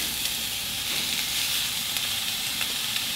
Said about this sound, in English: I'm just going to saute this in a little olive oil